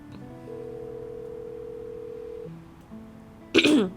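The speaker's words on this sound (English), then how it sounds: "I try calling Caleb, but he doesn't answer the phone after 2 rings" An unanswered phone call in the Love and Deepspace video game: a long, steady ringing tone, a pause, then a shorter lower tone, ending in a brief sharp burst of sound.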